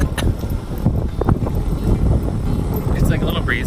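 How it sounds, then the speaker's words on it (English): Wind gusts steadily across the microphone at the Brighton seaside. The rumble is loud and continuous, with faint background sounds beneath it. "It's like a little breezy, but that's like ideal for me."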